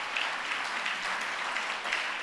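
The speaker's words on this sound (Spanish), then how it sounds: "Denle un aplauso a Jesús, hermano." Church congregation applauding during a worship service, a steady, dense wash of clapping that holds at an even level throughout without pause.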